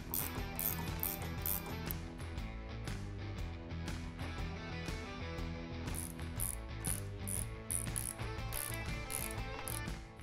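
Ratchet clicking steadily while tightening the rear shock bolts on a Harley-Davidson, heard over continuous background music with no talk.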